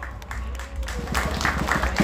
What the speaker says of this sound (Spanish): para quien pido un fuerte aplauso